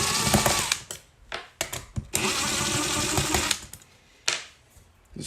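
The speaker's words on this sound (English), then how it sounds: "So let's go ahead and start pulling some screws out of here." Screws being backed out of a device with a power driver, several bursts of loud whirring and ratcheting close by, broken by short pauses and clunks between screws.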